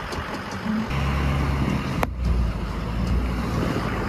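A white dually pickup truck stuck in snow revs its engine with a steady, loud low rumble that rises and holds for several seconds, with a short sharp clunk partway through.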